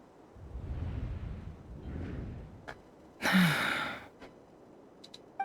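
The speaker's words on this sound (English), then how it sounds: "I heard Yehuda gasp" A female character in the video game Genshin Impact gives a soft, breathy gasp, followed by a louder rushing whoosh-like burst and a few faint clicks, with no talking.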